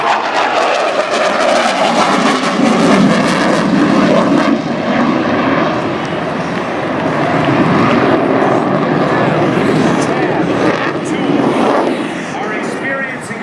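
Loud, sustained roar of an F/A-18 Hornet fighter jet making a 360-degree high-G turn over an air show at Jones Beach, with broadband engine thunder filling the whole stretch and shifting slightly as the jet passes.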